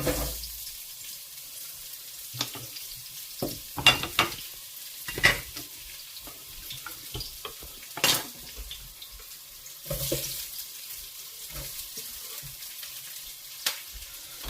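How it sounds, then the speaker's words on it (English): Onions go into hot oil with ginger for a beef and black bean stir-fry, producing a low, quiet sizzle broken by scattered sharp stirring knocks and bursts of spatter. "I got the oil in, so I'm now going to add the onions."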